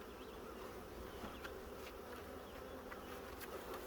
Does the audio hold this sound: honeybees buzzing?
yes